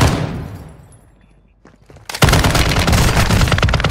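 Bursts of automatic gunfire from the Warzone video game, loud and dense, breaking in after a near-silent lull and continuing as rapid sustained shots.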